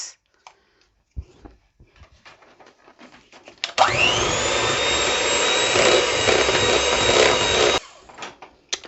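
Electric mixer beating biscuit dough with butter, dry ingredients and vanilla essence runs as a loud steady whir for about four seconds, with quieter bowl and handling clatter before and after.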